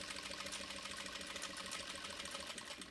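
A sewing machine stitches a decorative seam at half foot pressure on stitch setting 4, a steady, close, continuous mechanical whir running without pause and without voices.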